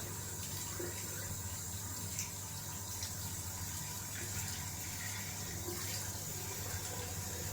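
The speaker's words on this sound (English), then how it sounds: "This will take some water. Just rinsing out the jar. hot water." Steady hot running water from a tap rinsing out a jar, a continuous broadband hiss with a low hum beneath it and faint clinks, no talking.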